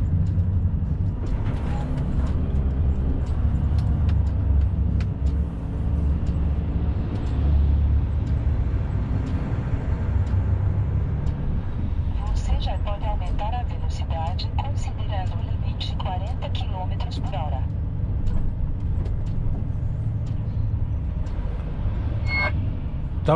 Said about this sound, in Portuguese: o movimento de caminhão continua, né? Ninguém tá parando.